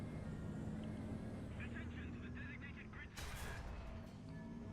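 A Leopard 2A4 tank cannon fires in War Thunder with a loud, close boom at around three seconds, over a constant rumble of engine and battle noise.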